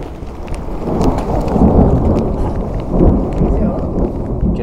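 Steady, heavy rain pours down on a mountain trek on the Annapurna Base Camp route, a loud, continuous wash of drops close by with gusts swelling through it.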